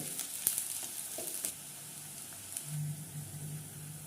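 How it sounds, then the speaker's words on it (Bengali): Onions sizzling in hot oil in a wok, a soft steady fry with occasional stirring scrapes and clinks, close and fairly quiet. "এবার এখানে পেঁয়াজগুলো দিয়ে দেব। পেঁয়াজগুলো দিয়ে লাল করে ভেজে নেব।"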